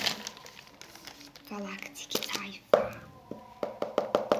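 A parcel of books from a secondhand bookshop is unwrapped, with close crinkling and tearing of paper and packaging in short bursts while a person talks softly.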